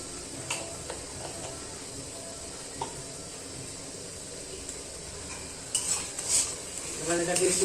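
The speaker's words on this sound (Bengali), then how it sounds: "এবার এটাকে একটু নাড়াচাড়া করে নেবো।" Onions sprinkled with salt are stirred in a pan over a steady low sizzle, with occasional spatula scrapes and clinks that grow busier and louder toward the end, nobody speaking.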